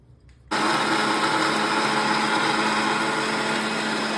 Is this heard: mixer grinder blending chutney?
yes